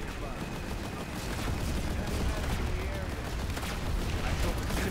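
Gunfire in the online shooter Planetside 2 during a squad firefight. Dense, overlapping bursts of shots crackle continuously with no pause, loud and busy throughout.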